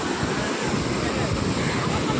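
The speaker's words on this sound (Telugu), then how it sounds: "అలలు కూడా చాలా పెద్దగా వస్తున్నాయి" Big sea waves breaking at RK Beach in the rain, a steady broad roar of surf with wind buffeting the microphone, loud and continuous throughout.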